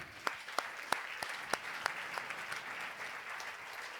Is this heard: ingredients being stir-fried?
no